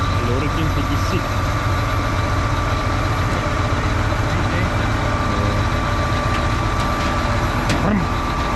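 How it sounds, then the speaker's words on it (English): A lorry engine idles with a slightly sick, uneven note, a steady loud low rumble that fills the whole stretch, with faint voices murmuring underneath. "Lorry klinkt een beetje ziek."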